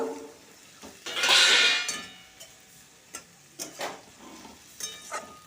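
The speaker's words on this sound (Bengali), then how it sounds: "ছোলাটাকেও মশলার সাথে আলুর সাথে ভালো করে কষিয়ে নিলাম" Chickpeas being sautéed with spices and potato for ghugni: a burst of sizzling frying near the start, then scattered scraping stir strokes and metal clinks of a spoon against the pan, moderately quiet and close.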